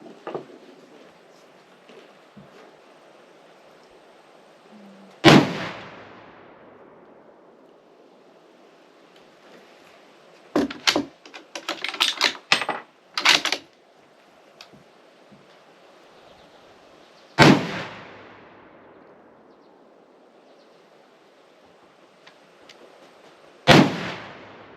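Christensen Arms MCR rifle in 7mm PRC firing Hornady 180 grain loads at a range: three loud, sharp reports spaced several seconds apart, each with a decaying echo, plus a brief burst of clattering handling noise in between.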